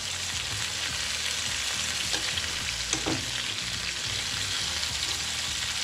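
Prawns crackle and sizzle in hot ghee for a Mangalorean ghee roast, a steady close frying hiss with a few sharper pops and stirring scrapes, no voices.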